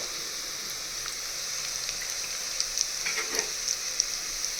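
Chutney and masala sizzle and fry in hot oil inside a clay mud pot, a steady high crackling hiss with scattered sharper pops, close and fairly quiet.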